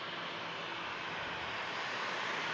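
A Ryanair Buzz passenger jet at an airport runway gives a steady, continuous broadband engine roar with no break, heard from some distance at a moderate level.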